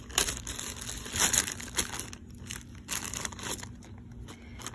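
A plastic thrift-store jewelry bag is pulled open, giving bursts of crisp crinkling and rustling, loudest early and then settling into lighter handling sounds nearby, with no talking.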